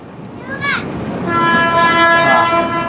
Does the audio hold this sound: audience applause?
no